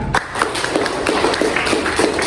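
A classroom full of students claps hands for a classmate, a dense, steady patter of many overlapping claps that carries on through the whole stretch with a faint murmur of voices underneath.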